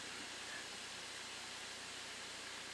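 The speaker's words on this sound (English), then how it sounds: "I still see quite a bit of steam coming out" Steady, faint hiss of steam escaping from a pressure cooker after frying chicken, an even continuous whoosh with no talking.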